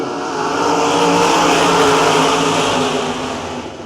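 Sprint cars racing on the I-96 Speedway oval: a loud, dense roar of several engines building as the field takes the green, sustained at full volume before easing slightly, with no voices.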